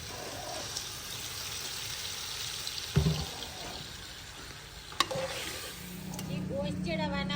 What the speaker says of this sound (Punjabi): ਹੁਣ ਨਾ ਇਹਦੇ ਵਿੱਚ ਗੋਸ਼ਤ ਪਾਵਾਂਗੀ, ਗੋਸ਼ਤ ਫਰਾਈ ਕਰਾਂਗੀ